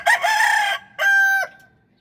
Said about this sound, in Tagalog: Ayan, silipin natin yung manok ha